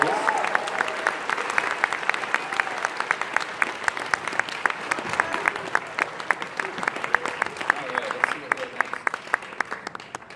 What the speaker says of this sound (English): So round of applause for our directors and for all of our volunteers.